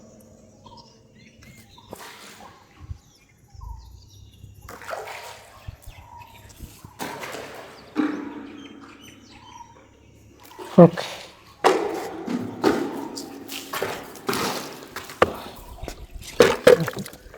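A bucket draws water from a well deep in a forest, with splashing and clanking that grows louder and busier in the second half, mixed with talking throughout.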